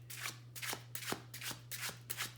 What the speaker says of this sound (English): I was about to shuffle this upside down.